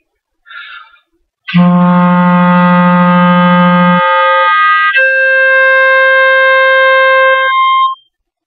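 A clarinet plays a long, steady low G, then jumps to a higher sustained tone as the register key is pressed, both close and loud, with a short breathy sound before.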